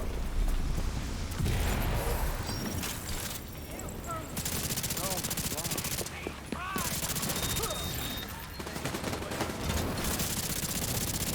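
Gunfire in The Division 2 video game, sustained bursts of rapid automatic shots with heavy booming impacts, continuous and loud for the whole stretch, over an ongoing game soundscape.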